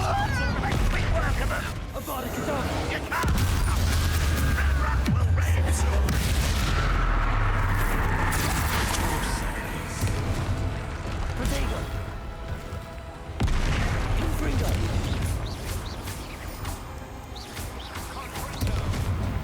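Repeated booming spell explosions and blasts from combat in the video game Hogwarts Legacy, loud and continuous, with impacts layered over game music and effects, and voices speaking amid the fight.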